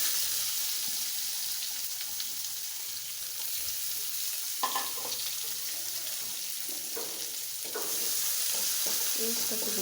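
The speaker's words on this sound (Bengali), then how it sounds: "ওই একই তেলে দিয়ে দিব পেঁয়াজ কুচি।" Chopped onions hit hot oil left over from frying bananas, giving a constant close sizzle with a few scraping stirs and clinks partway through, and no voices.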